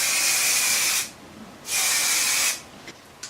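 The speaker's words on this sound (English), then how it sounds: "I'm going to give that a couple of coats of paint to freshen it up, and I'm using zinc 182 primer to protect it from rust." Zinc 182 primer sprays from an aerosol can onto a car wiper linkage part, heard as two close, steady hissing bursts about a second long with a short pause between them.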